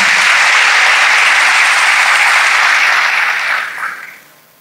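A church congregation at a French-language service bursts into loud, dense applause that carries on steadily, then fades away over the last second.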